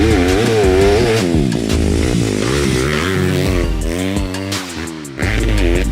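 Loud Yamaha 250 four-stroke enduro motorcycle fitted with an Akrapovic exhaust, engine revving and shifting continuously with rising and falling pitch, close and dominant throughout.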